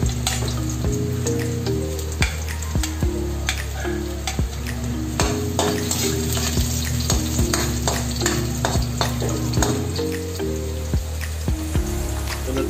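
Garlic fries in hot oil in a pan for pork menudo, a steady loud sizzle broken by repeated scraping strokes and clinks of a utensil against the pan.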